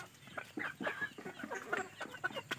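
Poultry on a farm in Konkan, chickens clucking repeatedly in a busy, overlapping chorus of short calls close by, with no talking.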